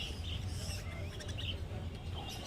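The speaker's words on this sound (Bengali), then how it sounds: "এখানে যে সমস্ত বদ্রি পাখি দেখতে পাচ্ছেন" Budgerigars at the Garia bird market give faint, high chirps and twitters, several overlapping, heard quietly over a steady low rumble of market background noise.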